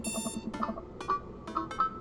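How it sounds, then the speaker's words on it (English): Alarm clock in the video game Dream Daddy, a chiming electronic ring repeating in short bright bursts about every half second over a low ambient hum. "I jolt awake to the sound of my alarm."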